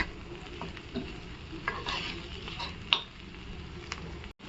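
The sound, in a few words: sautéing cluster beans with spices in a pan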